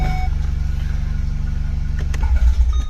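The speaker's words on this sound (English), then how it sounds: "maybe if I start my car" A VW Golf engine running at a steady, close idle with a low rhythmic pulse, then a brief clunk and rumble near the end as it shifts; no talking over it.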